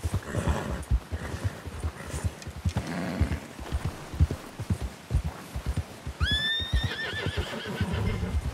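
A horse in the video game Red Dead Redemption 2 gallops with rapid, rhythmic hoofbeats throughout, then lets out a loud, high whinny near the end over the continuing clip-clop.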